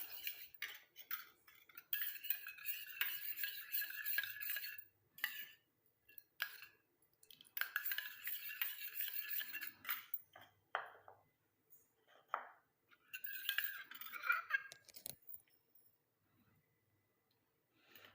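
Homemade face cream ingredients, tomato and potato with juice, are mixed in a bowl with a spoon, making quiet bursts of clinking and scraping that stop and start with short silent gaps.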